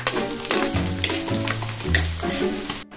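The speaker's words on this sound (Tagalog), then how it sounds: "babanatan na natin yung gulay" Vegetables sautéing in a pan with garlic and tomato make a loud, close sizzle and crackle. Repeated scrapes and stirring knocks break through the frying noise every half second or so.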